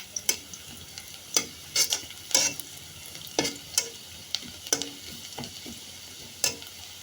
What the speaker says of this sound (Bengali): পেঁয়াজটা নাড়াচাড়া করে বেজে নেই ভালোভাবে